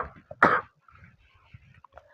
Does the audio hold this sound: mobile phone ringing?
no